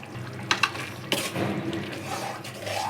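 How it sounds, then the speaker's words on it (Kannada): Food boils and fries in a pan on the stove, close by and fairly quiet. A soft bubbling hiss runs throughout, with a few sharp clinks of a utensil or pot near the start. "ಸೊ ಚೆನ್ನಾಗಿ ಕುದೀತಾ ಇದೆ."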